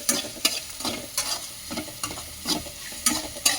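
Avalakki (flattened rice poha) being stirred and fried in a pan, with repeated scraping strokes about every half second over a steady soft sizzle, close and fairly loud, with no talking.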